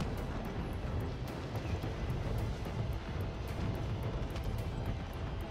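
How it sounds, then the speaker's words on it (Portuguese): A helicopter in the Call of Duty video game gives a dense, continuous rotor and engine roar with rapid rhythmic chopping, loud and steady throughout with no voices. "Meu time foi até de helicóptero ali, ó."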